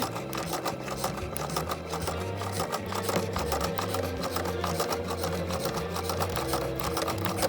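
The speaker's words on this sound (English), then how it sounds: "Now we're going to put our foot back down and keep sewing forward." Sewing machine stitching forward through mending fabric, a steady rapid mechanical chatter that runs continuously, close and moderately loud, with no talking.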